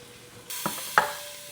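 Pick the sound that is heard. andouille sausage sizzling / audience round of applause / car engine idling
andouille sausage sizzling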